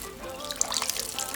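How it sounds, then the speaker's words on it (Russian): Water drips and trickles from a bag of soaked garlic cloves, small scattered droplets patter softly and close by, with no speech. "Капельки стекают."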